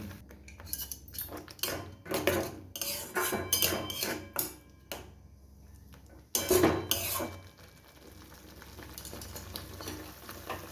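A utensil scraping and clinking against a pan in repeated strokes as tomatoes are stirred for chutney, with soft sizzling underneath and brief pauses between bursts of stirring.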